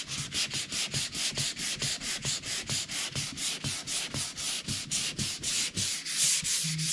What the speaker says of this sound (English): Little sanding is just needed.